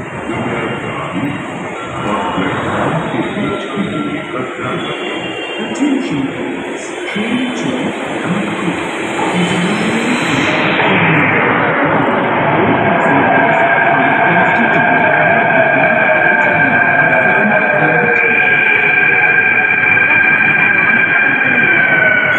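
A crowded metro train pulls into a station platform, a rising rumble that builds into a loud, sustained whine as it arrives, with people talking throughout and a high electronic tone near the start.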